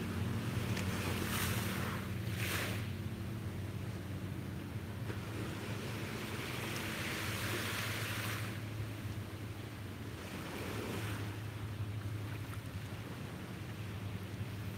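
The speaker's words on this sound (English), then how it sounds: "The water's calm, but the waves still sound beautiful and relaxing." Gentle ocean waves wash onto a beach on a calm sunrise morning, a steady soft surf hiss with slow swells rising and easing, mixed with wind rumble against the microphone and a low boat-like hum beneath.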